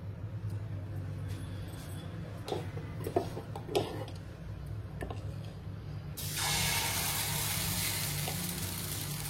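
A little water is poured into dosa batter after a few soft stirring clicks, becoming a steady close hiss of running water that lasts to the end.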